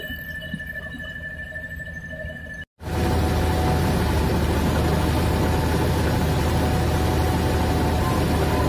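An engine drives a rice grain processing machine in a village setting, at first as a steady hum under a thin whine, then after a brief cutout as a loud, dense, continuous roar close by.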